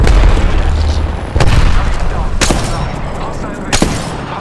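A grenade blast in Apex Legends booms loudly at the start, followed by a few sharp crackling bursts of gunfire over a dense, rumbling game soundscape, with voices calling out faintly underneath.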